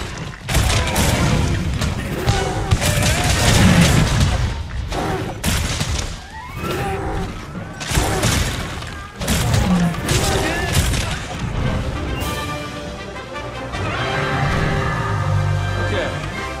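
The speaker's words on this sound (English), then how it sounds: "That's a piercing pot, a powerful type of slinger ammo." Piercing pot slinger ammo striking a thick-shelled monster in the video game Monster Hunter: World, a run of heavy booming impacts and crashes amid loud battle sounds, with voices speaking throughout.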